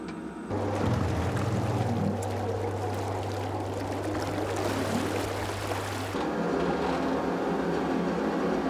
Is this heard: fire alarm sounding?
no